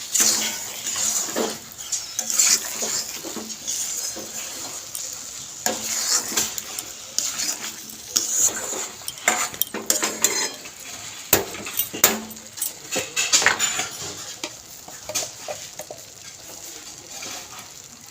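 Taro curry in a pot being stirred after sugar is added, with repeated scraping and clinking of a metal spoon against the pot over a faint sizzle, uneven bursts of stirring throughout.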